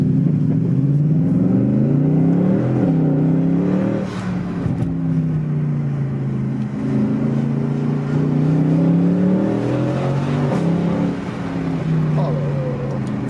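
A Mercedes C63 AMG engine growls loudly and continuously while accelerating, its pitch rising and falling through revs in a city setting, heard from inside the car as people talk over it.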